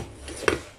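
A lid set down over a pot of vermicelli cooking in milk lands with a single short knock near the middle, followed by a brief rattle against a quiet kitchen background.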